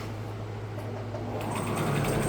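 Sewing machine running steadily while stitching a quarter-inch seam down one side of patchwork fabric, a continuous close mechanical whir that picks up slightly near the end, with no talking.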